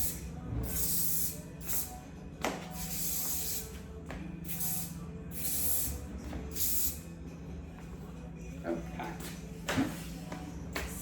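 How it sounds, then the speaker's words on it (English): Hairspray hisses from an aerosol can in several short bursts and one longer spray over loose styled waves. The spray is close and fairly quiet, with faint background noise between the bursts. "I'm gonna go through and spray it with some hairspray."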